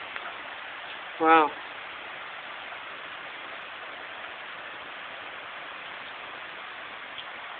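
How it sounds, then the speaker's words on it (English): Steady, even rain falling straight down hisses continuously, a dense wash of falling water, with a brief exclamation from a person early on. "It's rain. It's coming straight down."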